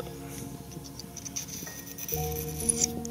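A fishhook point is drawn along a Nash sharpening kit's hone, giving light, close scraping strokes in short repeated passes over a steady tonal background.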